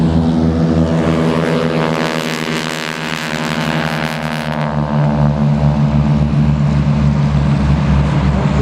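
Several North American Texan radial-engine propeller trainers of the AeroShell aerobatic team roar past at an airshow, a loud steady drone with shifting harmonic tones as the formation flies by.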